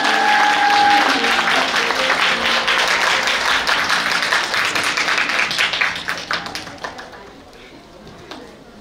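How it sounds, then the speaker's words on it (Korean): Guests at a Korean wedding ceremony applaud together in a sustained, dense round of clapping that gradually thins and fades out toward the end. "큰 박수 부탁드리겠습니다."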